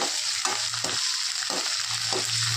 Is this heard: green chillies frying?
yes